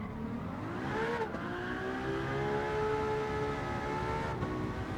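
A V12 car engine revs hard and loud, its pitch climbing and sweeping through a sustained, throaty roar with no talking.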